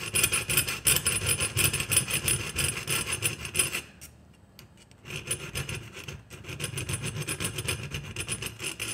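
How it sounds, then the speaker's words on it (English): A finer file rasps back and forth over the jaw of smooth-jaw pliers being made for jaw harp repair, with steady close strokes that pause briefly before resuming. "Finer file."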